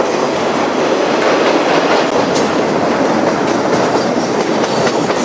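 A freight train in Wyoming hauls wind turbine blades, each blade spanning two flat cars, heard as a steady, loud rolling rumble with continuous clickety-clack of wheels over rail joints throughout.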